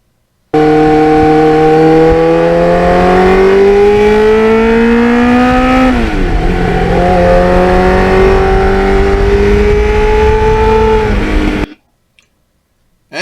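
A restored 1989 Kawasaki Ninja GPX750R motorcycle engine revs loud and close, pitch climbing steadily, dipping once midway, then rising again before stopping suddenly.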